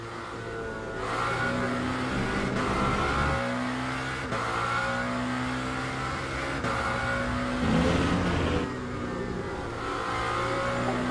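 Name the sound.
Lamborghini SC63 LMDh engine revving in Le Mans Ultimate video game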